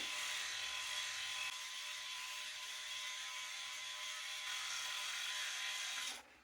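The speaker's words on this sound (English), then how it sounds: "Sometimes it's a little tricky shaving with the camera in front of me" A Philips Norelco 9400 electric shaver buzzes steadily and close as it runs over skin, a continuous high whirring hum that holds for several seconds before stopping abruptly.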